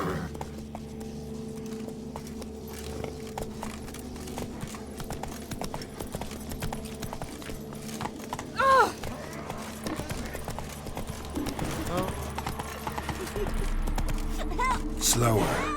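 In The Witcher 3, horse hooves clip-clop steadily at a trot or gallop under game music and ambience, while a voice briefly speaks.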